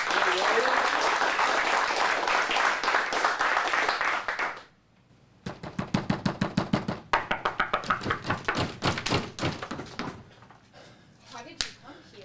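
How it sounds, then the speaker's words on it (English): An audience at an adult acting showcase claps for two performers about to do a La La Land scene. A few seconds of full applause die away, then scattered knocks and thumps follow as the scene begins. "Let's give them a round of applause."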